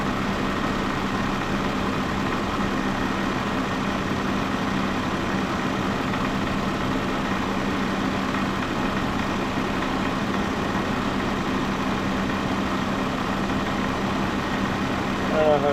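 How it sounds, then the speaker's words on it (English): A Mercedes SLK320 engine idles steadily with a constant low hum and faint tonal drone while its air-conditioning system is recharged with refrigerant, the sound unchanging and moderately quiet throughout, with a slight bump at the very end. "every time we do a burst, the engine sounds vary a little bit."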